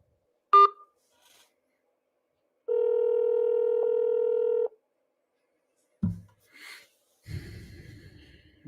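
Telephone keypad tones while dialing an option on an automated line to a U.S. Senate office, a short beep followed by a single steady tone held for about two seconds, then brief breathing and shuffling noises.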